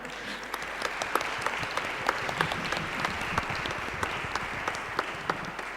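An audience breaks into applause to welcome a guest on stage, dense continuous clapping from a crowd with sharp individual claps standing out, loud and sustained throughout.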